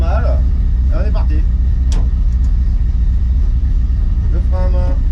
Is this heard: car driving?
yes